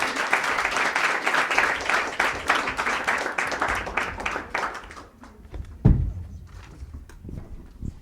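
Audience clapping at a fall launch party for a publication, following a reading; dense steady applause for about five seconds that thins to a few scattered claps and a bump or thunk before fading out.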